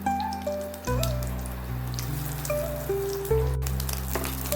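Dried red chillies and panch phoron hit hot mustard oil, giving a steady crackling sizzle that runs continuously beneath loud background music.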